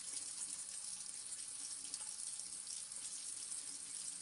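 Quiet, steady trickle of running water, like a tap or a small stream, flowing evenly and softly throughout with no talking.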